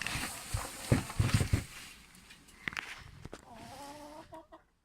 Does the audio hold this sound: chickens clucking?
yes